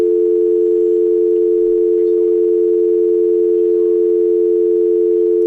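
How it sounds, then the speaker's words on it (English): A steady telephone dial tone holds alone on the line, loud and unbroken, with no voices over it. "It's a dial tone"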